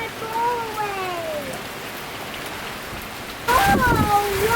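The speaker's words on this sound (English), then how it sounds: "It's just rain." Rain patters steadily in the background while voices talk over it, with a brief louder burst of splashing near the end.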